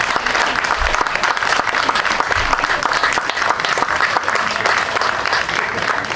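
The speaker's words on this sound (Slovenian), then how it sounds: "In če ste za to, da mogoče z enim aplavzom damo eno nagrado za to ekipo" Enthusiastic applause from a large audience at the opening ceremony of the Liber.ac 2023 literature event in Ljubljana, dense and continuous clapping that stays strong throughout.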